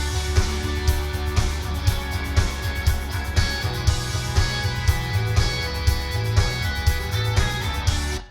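Finished full mix of a track with processed drums, a dense, loud, continuous groove with steady kick pulses under sustained tonal layers, playing for about eight seconds without a break.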